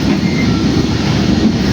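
The Pandanwangi passenger train on the Ketapang–Jember route runs along the rails at speed, a loud, close, continuous rumble of wheels on track.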